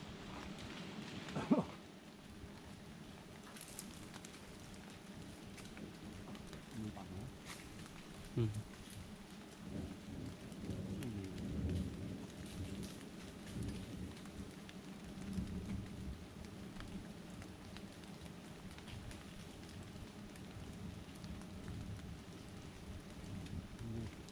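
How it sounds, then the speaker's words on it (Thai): Rain begins falling in a forest during a hunt for wild giant honeybee hives, a steady even hiss of drops on leaves and ground lasting throughout, with a low rumbling undertone and a brief sharp knock near the start. "ก็ฝนตกเริ่มลงเม็ดพอดีครับ"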